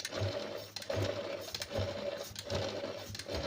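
Sewing machine running steadily after being oiled, a rhythmic mechanical whir with repeating stitch cycles about every 0.7 seconds, close and fairly loud with no talking.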